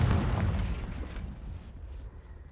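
A Confringo blasting spell explodes in Hogwarts Legacy, a heavy booming blast with a deep rumbling body that decays over about two seconds, loud and close with no talk.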